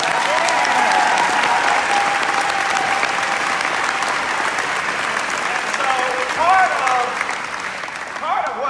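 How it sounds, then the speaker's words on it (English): A town hall crowd in Charleston applauds steadily for several seconds, broad sustained clapping with scattered voices, then a speaker begins talking as the clapping fades. "You can applaud for that."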